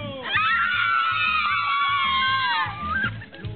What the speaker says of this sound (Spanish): Vamos a ver, niños, un grito.